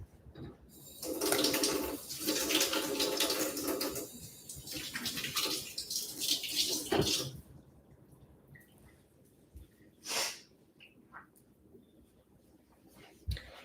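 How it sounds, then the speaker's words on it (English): A stream of running tap water pours as hands are washed under the faucet, loud and steady for several seconds before stopping, followed by a few faint splashes and drips. "So let me wash my hands."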